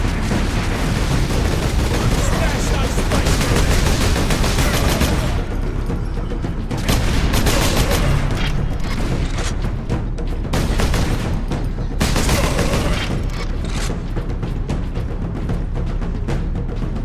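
Dense, continuous gunfire in the video game Warhammer 40,000: Space Marine, loud overlapping bursts and booms with heavy rumble, surging and dipping in intensity without a break.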